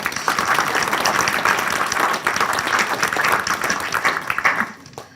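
An audience applauds State Representative Bobby Gibson at an African American studies panel discussion, a dense, steady burst of many hands clapping close by that fades out in the final half second.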